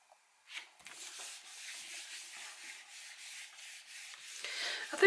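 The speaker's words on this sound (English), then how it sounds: "Just getting rid of the excess on an old catalogue here." Excess paint is rubbed off onto an old paper catalogue, a soft, steady scraping and rubbing that runs for several seconds with a slight swell near the end, close and quiet, with no voices.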